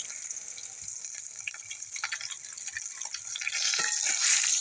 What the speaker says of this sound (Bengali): এই মাছগুলো উল্টো পাল্টে ভেজে নিচ্ছি